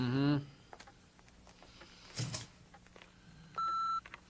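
An answering machine gives a single steady electronic beep to signal a new message, sounding clearly for about half a second after a short voice and faint background sounds.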